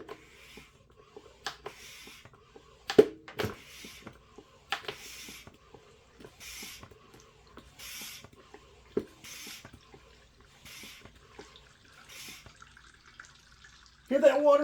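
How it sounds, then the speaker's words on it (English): Water siphoning into a ZOOYL oil extractor, a soft steady trickle and gurgle with scattered drips and clicks, fairly quiet and close, ending in a louder rush. "Hear that water flowing?"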